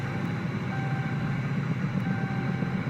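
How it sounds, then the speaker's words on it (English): A truck backs up with its reversing alarm beeping steadily over a low, continuous engine rumble, heard at moderate distance with no voices. "let's first start by backing out the truck"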